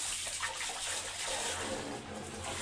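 Lukewarm shower water pours steadily for a chicken's bath, a close, continuous hiss and splash with no break.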